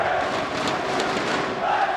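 An arena crowd roars steadily throughout a CS2 esports semifinal between Spirit and Vitality at IEM Dallas 2024, a loud, continuous wash of cheering with no clear breaks.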